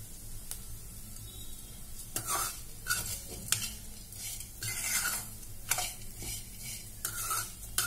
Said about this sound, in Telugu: ఈ నెయ్యిలో దోరగా అటుకులను కూడా వేయించుకోవాలన్నమాట.